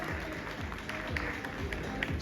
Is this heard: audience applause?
yes